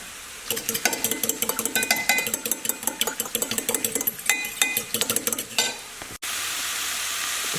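A spoon stirs a beef stock cube into boiling water in a cup, clinking rapidly and steadily for several seconds before stopping, followed by quiet background noise.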